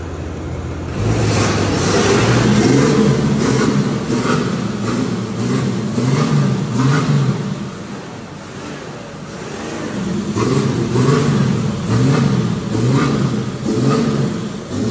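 Ram 3500 truck engine fitted with a direct exhaust kit and 5-inch tip, revving loudly up close in repeated surging pulls that rise and fall over a rumbling idle.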